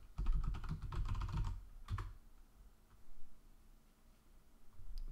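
Someone types a password on a computer keyboard: a quick, close burst of soft key clicks followed by a single firm keystroke, then a few faint scattered taps in a quiet room.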